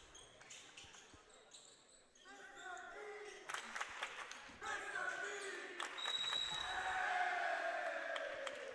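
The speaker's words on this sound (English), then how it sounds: "Mr. D getting a shout out by the crowd downstairs" Crowd noise rises at a girls basketball district quarterfinal game, cheering and shouting swelling in a gym amid ball bounces and squeaky echoes, growing louder toward the end while a commentator talks.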